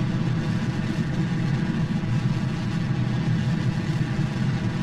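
Steady, loud engine roar from a rocket launch in the video game Kerbal Space Program, a dense low rumble that holds constant throughout without pauses or talk.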